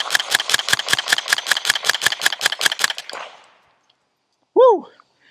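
A rifle fitted with an AnechoX 35 compact suppressor fires 147 grain rounds in a fast string of about fifteen sharp, evenly spaced muffled shots. After a brief silence, a man lets out a short exclamation.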